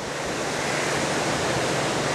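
Sea waves wash steadily onto the shore at Colombo beach in Sri Lanka, a continuous broadband surf rush at moderate level with no voices.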